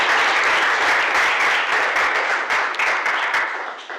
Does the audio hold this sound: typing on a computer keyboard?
no